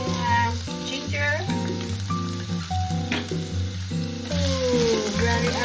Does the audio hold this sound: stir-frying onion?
yes